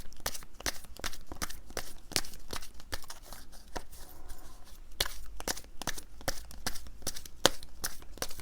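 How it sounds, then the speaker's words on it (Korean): Soft papery rustling and crisp flicks of tarot cards being handled and drawn from a deck, close and quiet, with a steady run of brisk snaps and shuffles throughout. "일단 제가 추가 카드 한번 뽑아볼게요."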